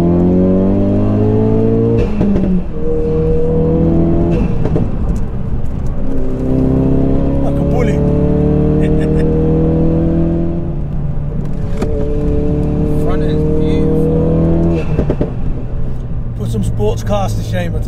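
A 430 bhp Ford Focus RS estate revving through gear changes with rev matching, the engine note rising and dropping in repeated sweeps, loud and close from inside the car while people talk over it.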